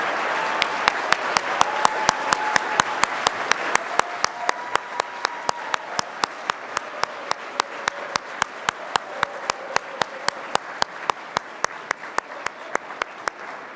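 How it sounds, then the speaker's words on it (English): Applause at the EcoCAR Mobility Challenge Year 4 awards for the faculty advisors, starting as a full round of clapping and thinning out into steady, evenly spaced claps from a smaller group, moderately distant. "ask them to stand for a big round of applause"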